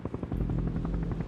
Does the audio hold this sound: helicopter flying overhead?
yes